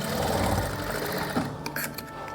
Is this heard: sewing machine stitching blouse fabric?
yes